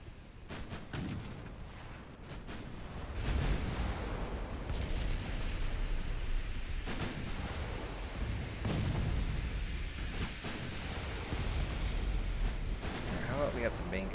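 Warship main guns fire in the naval game Ultimate Admiral Dreadnoughts, deep booming blasts with rumbling tails that merge into a loud, sustained roar of battle.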